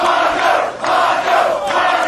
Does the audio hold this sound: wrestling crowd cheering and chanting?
yes